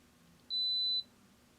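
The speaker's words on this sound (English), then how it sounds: "And that beep is going to tell me that the camera is now recording." A 360 camera gives a single clean, steady electronic beep lasting about half a second as recording starts, alone over a faint room hum.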